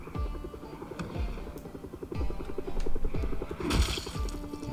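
A helicopter in the zombie survival game Project Zomboid: a steady, rhythmic rotor thumping that repeats about once a second and grows louder, mixed with a brief crash-like burst of noise.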